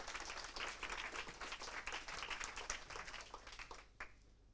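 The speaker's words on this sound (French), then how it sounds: "on peut l'applaudir, il a tenu le timing." Quiet, fairly distant applause from a seated audience at a customer-relations business talk, steady clapping that fades out near the end, with a single louder clap just before it stops.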